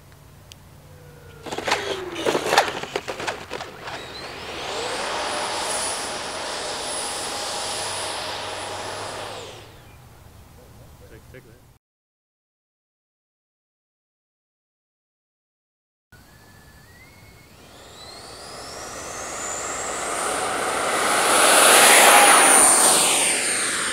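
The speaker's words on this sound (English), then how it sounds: "This is not a bad first landing at all." A Freewing F-14 Tomcat radio-controlled jet with twin 64mm electric ducted fans comes in to land, its high fan whine rising and falling in pitch, cutting out briefly, then swelling loud again as it passes close.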